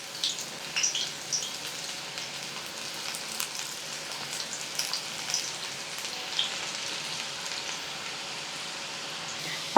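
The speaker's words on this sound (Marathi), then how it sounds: "तेल गरम केलं, कारलं सोडूयात आणि छान कुरकुरीत होईपर्यंत" Bitter gourd slices deep-fry in hot oil over a low flame until crisp, giving a soft, continuous crackling sizzle with scattered small pops, heard alone.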